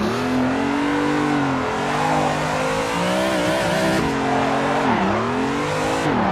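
A car drifting and spinning out in Assetto Corsa, BMW M3 or Toyota AE86, the engine revving continuously with rising and falling pitch as the throttle is worked, loud and close under a steady wash of tire noise.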